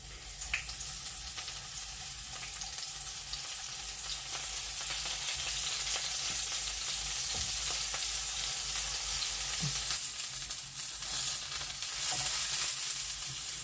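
Slices of eggplant coated in a minced-meat, egg and flour mixture fry in a pan, giving a steady, close crackling sizzle throughout with occasional small pops and stirring sounds.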